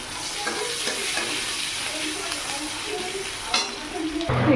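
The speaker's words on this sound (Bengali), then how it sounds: "এখানে আমার পেঁয়াজটা লাল লাল ভাজা হয়ে গেছে।" Onions with a pinch of salt and tomato frying in a pan for Bhagwan fish curry, a steady close sizzle with scraping stirs running throughout, louder clatter near the end.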